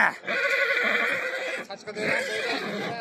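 A horse whinnies loudly and close by at a large Thursday horse market in Surkhandarya, one long neigh carrying over faint market voices.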